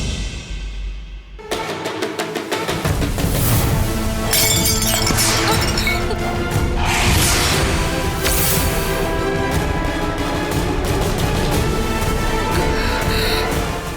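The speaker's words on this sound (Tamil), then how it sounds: "இப்பதான் அந்த பாட்டில் உடைஞ்சிருக்கு." A perfume bottle breaks and shatters in a Tamil television drama scene, with a sudden crash near 1.5 seconds followed by a long, dense wash of glass fragments and clinks under loud dramatic music.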